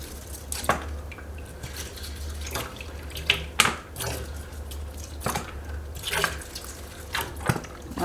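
Water is squirted and drips over a Hoya carnosa compacta (Hindu rope) plant being cleaned, faint close spritzes and scattered drips and splashes against a low, steady background hum.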